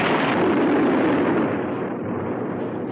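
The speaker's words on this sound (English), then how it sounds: "Sometime later, there's an explosion from the building's interior." An explosion sound effect booms inside a building, a loud deep blast that rolls on and slowly decays into a rumbling tail over three seconds, with no voices.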